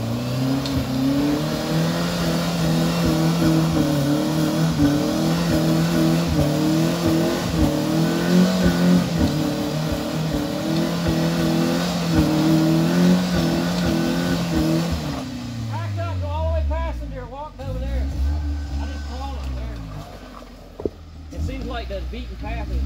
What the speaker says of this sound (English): Start the rear engine.